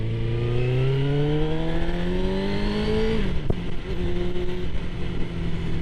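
A Suzuki GSX-R 750 sports motorcycle at high speed, its engine note climbing steadily through the gears with one quick shift, loud and continuous under steady wind rush, with no talking.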